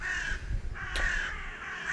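Crows caw outdoors, a few harsh calls close by against soft background noise.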